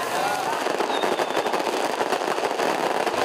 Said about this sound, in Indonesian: Pesta kembang api menandai puncak perayaan ulang tahun ini.